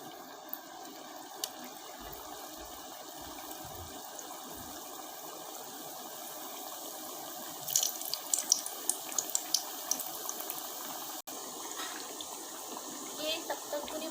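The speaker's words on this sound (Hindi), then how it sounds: "अब हम इसमें कचौरी डालेंगे।" Onion kachori fry in hot oil, making a steady broad hiss that stays fairly faint, with a cluster of small crackles and pops partway through.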